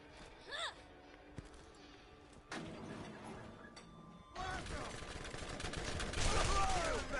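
Rapid fire from a bullet hose gun in the Borderlands video game, beginning sparse with scattered game sounds and then building into a dense, loud stream of shots in the second half.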